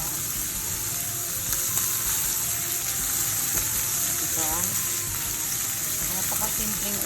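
Canned jackfruit with plenty of black pepper is sautéed in a pan, giving a steady loud sizzle that carries throughout, with faint background talk and scattered clinks over the frying.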